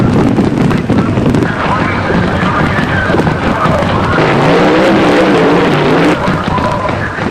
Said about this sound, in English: Danny Wenger streaks down the quarter mile, and the Hot Rod Shop grabs their 4th win of the day